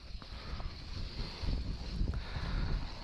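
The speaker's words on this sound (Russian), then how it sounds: "Что-то ветер поднялся." Wind rising through a forest beside a river, a steady low rumbling rush that swells and buffets the microphone throughout, with no other distinct sounds.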